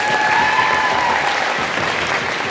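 Steady, dense applause from a crowd at a school rally and awards event, filling the space evenly throughout.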